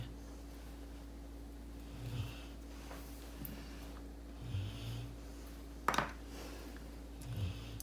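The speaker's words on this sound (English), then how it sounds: "the snoring out of this dog, my God." A dog snores nearby in a quiet room, with soft, rhythmic snorting breaths every couple of seconds over a steady low hum, plus one sharper snort partway through.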